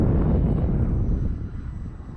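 An FMS PC-21 Pilatus RC model airplane passes overhead with a steady, loud broadband engine roar that fades gradually as it moves away, with no talking.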